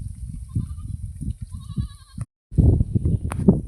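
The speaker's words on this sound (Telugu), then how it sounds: "గొర్రెలు ఎట్ట ఉన్నాయి ఫ్రెండ్స్ చూసి చెప్పండి. గట్టిగా మేత జరుగుతుంది." Grazing sheep bleat close by in a series of wavering calls, followed by a louder burst of flock noise and rustling after a short gap.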